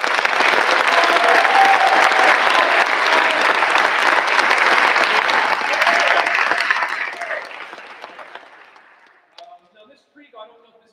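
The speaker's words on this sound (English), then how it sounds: "Please join me in giving them another round of applause" A high school fall concert audience gives the student soloists a full, loud round of applause that holds steady for several seconds, then thins and fades into a few scattered final claps.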